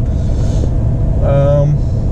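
Mercedes-AMG CL500 V8 engine and exhaust with a quiet stock setup, idling as a low, steady rumble that runs through the whole stretch, with a brief tonal hum partway through.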